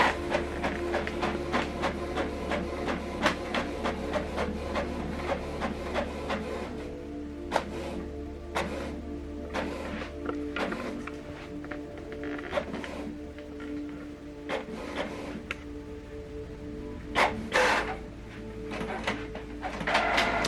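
A Canon printer runs off a single colour page, its steady mechanical whir broken by regular clicks and feed clunks, heard close and without any voices.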